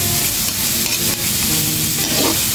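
Carrots stir-frying with garlic and onion in a hot pan, a loud, steady close-up sizzle with faint scraping of the utensil underneath.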